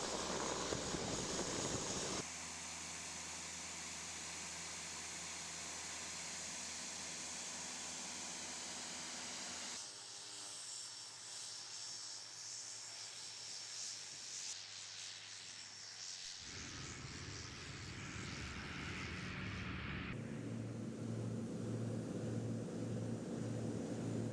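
A small passenger airplane on an Everest mountain flight in Nepal taxis to the runway and takes off. Its engines give a loud, continuous drone that shifts in tone as power changes, with no talking.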